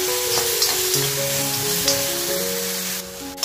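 Tomato frying in a pan over a medium gas flame, with onion, an even close sizzle and crackle that runs unbroken with a few light stirring touches.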